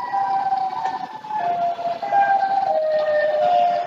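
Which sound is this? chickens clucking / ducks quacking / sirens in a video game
sirens in a video game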